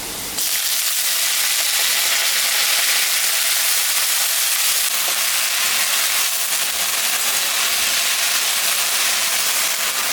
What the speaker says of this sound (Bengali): এখন আমি শাকটা দিয়ে দিব শাকটা একটু ভাজা ভাজা করতে হবে